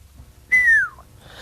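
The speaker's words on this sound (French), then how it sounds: "c'est très classe quand tu siffles" A person gives one clear whistle, a short bright tone gliding downward and lasting under half a second, heard alone against near silence.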